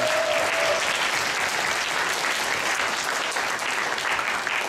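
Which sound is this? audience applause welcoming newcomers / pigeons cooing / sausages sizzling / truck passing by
audience applause welcoming newcomers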